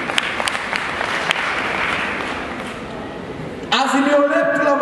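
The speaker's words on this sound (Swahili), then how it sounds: "Piga makofi kwa ajili yake." Applause breaks out from a student audience at a political rally in a hall, loud and sustained. Talk runs over the clapping at first, then clear cheering and voices join in.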